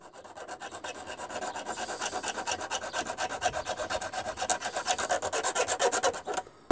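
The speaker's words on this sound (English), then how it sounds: "I used some small files to file away some of the excess track" Small hand files rasp back and forth over excess model railway track, a close, steady run of rhythmic strokes with no talk.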